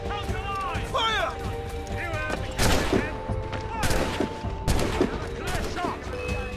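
Musket volley from redcoat soldiers in the Assassin's Creed Rogue video game on PC, with several loud sharp gunfire bursts scattered through a busy battle soundscape, alongside shouted voices and galloping hoofbeats.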